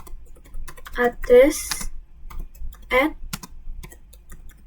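Computer keyboard typing heard as quick light key ticks, mostly between and under a man's spoken phrases.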